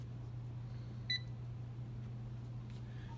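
An anemometer meter gives one short, faint electronic beep partway through, set against a steady low hum and background hiss.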